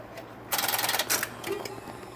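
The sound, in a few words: telephone exchange relays clicking as a number is dialed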